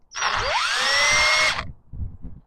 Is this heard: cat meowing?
no